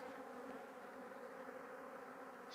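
Honeybees in a hive around the laying queen of the best performing colony, a dense steady buzzing drone, faint and close, with no other sounds.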